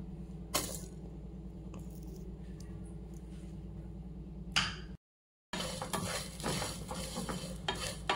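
Ginger and garlic frying in a pan for mutton kuzhambu, a low sizzle under a constant hum, with a couple of sharp utensil clinks, a brief dropout, then a brighter burst of frying; no talking.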